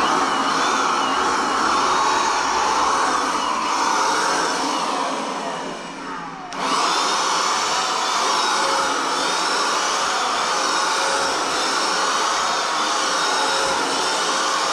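A heat blower dries paint on workshop furniture, a loud, close, continuous whooshing roar that dips briefly midway before resuming at full strength.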